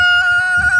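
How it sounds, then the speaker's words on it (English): A rooster crows on a farm kept with broiler chickens, a single sustained, strongly tonal call heard close and loud, with no talking. "I hear you. I hear you. That's Clyde the rooster"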